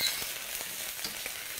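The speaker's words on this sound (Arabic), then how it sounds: "نقلب بقى المشروم شوية كده" Mushrooms frying in a pan, stirred as they sauté, giving a soft steady sizzle with faint scraping taps, quiet and continuous with no talking.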